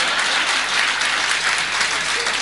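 A crowd at a Hindi poetry gathering, a kavi sammelan, bursts into loud sustained applause, dense clapping that holds steady from start to finish.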